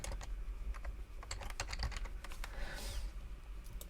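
Typing on a computer keyboard while writing PowerShell code, a steady run of quick, light key clicks, close and fairly quiet, without speech.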